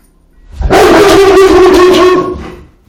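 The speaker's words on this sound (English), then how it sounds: "That's Cindy the pup." A young pup barks and whimpers close by in a home, a short burst of yips and whines that swells and fades over a couple of seconds with no talking.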